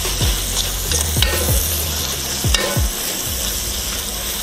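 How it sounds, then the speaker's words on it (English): Celery pieces tossed into a hot soup pot for a vegan broccoli potato soup sizzle steadily and loudly, with several sharp scraping stirs cutting through the constant frying hiss; no one speaks. "I'm gonna toss my celery in there now"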